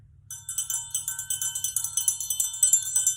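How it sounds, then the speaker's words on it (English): A triangle rings as a mallet runs around its inside, giving a quick, steady rattle of bright metallic strikes that sustains as a shimmering tone for several seconds. "You can take your mallet all the way around the triangle."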